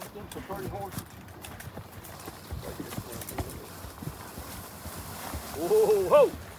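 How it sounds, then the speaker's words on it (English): Working horses at a farm festival clip-clop with scattered hoof strikes on the ground, fairly faint and close, under men calling out commands, with a brief whinny-like sound near the end. "Some pretty horses."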